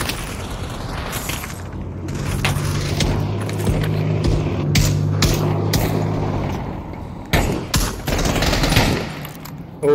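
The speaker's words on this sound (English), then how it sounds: "The gun on this tank still works." Tank gun firing in the Pavlov video game at Stalingrad, several loud booming shots and bursts of gunfire over a low rumbling engine hum, fairly close and strong throughout.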